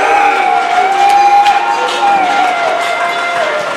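An audience at a Shrimad Bhagwat Katha calls out a 'Jai Shri' chant together, a sustained swell of many voices at moderate distance, steady and loud for a few seconds.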